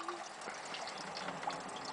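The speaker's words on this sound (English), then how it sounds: "We're dripping water in, we're dripping water out" Water dripping and trickling through a biosand water filter with a Schmutzdecke layer, a faint, soft, steady patter with small irregular drops, heard quietly and fairly close.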